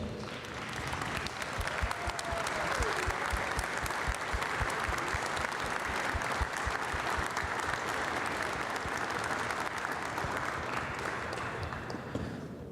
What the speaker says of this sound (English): give our families and friends a round of applause for supporting us